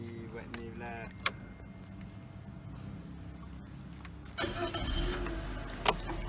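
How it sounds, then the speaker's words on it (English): Car engine starting during an oxygen sensor test: quiet clicks and key sounds, then the engine catches with a rising crank and settles into a low, steady idle near the end, with brief talk underneath. "now we are going to start our car engine."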